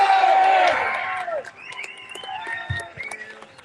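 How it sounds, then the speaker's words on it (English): A crowd at an outdoor protest rally in Oxford cheers and shouts loudly at first, then the roar fades into scattered whoops and claps over a quieter background. "Massive round of applause for Lawrence Fox of GB News"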